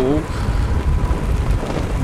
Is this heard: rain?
yes